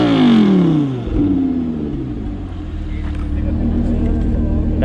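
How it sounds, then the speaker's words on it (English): An Audi R8 supercar engine fires up with a loud descending roar, then settles into a deep, rumbling idle that steadily swells, heard close by with a voice over it. "The R8 has again started up. Obviously it's going to be sounding absolutely mental."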